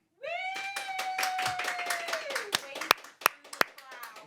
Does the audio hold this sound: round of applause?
yes